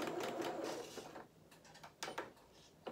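A sewing machine stitches a seam on small culottes, a burst of fast, close needle clatter that slows and then gives a few single mechanical clicks before pausing.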